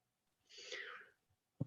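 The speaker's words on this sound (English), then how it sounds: "It looked like you sneezed." A single person sneezes, a short breathy burst, followed moments later by a brief thump.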